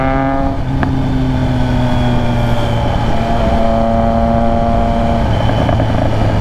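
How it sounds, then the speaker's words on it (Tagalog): A Triumph Trident 660 motorcycle runs steadily with a loud, continuous exhaust drone and shifting engine tones, with a brief sharp crack of exhaust backfire early on and no talking. "Ang ganda nung backfire nung exhaust."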